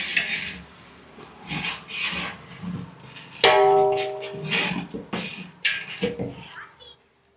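Chicken biryani masala for a Dindigul-style seeraga samba biryani is stirred in a pot with a metal ladle, giving intermittent scraping and clanking strokes, including a sharp ringing clang, under a voice talking.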